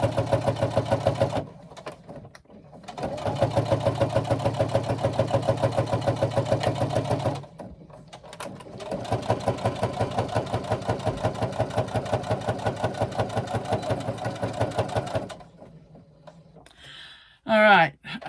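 A sewing machine stitching a laptop bag seam, running in steady rapid-stitch stretches with short pauses between, close and fairly loud, ending with a brief clatter.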